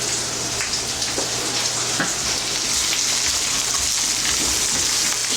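Potato slices fry in fat in a pan for a Spanish tortilla, giving a dense, continuous close sizzle and crackle that holds steady and fairly loud throughout, with no voices.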